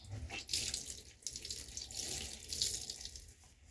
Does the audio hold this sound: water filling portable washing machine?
yes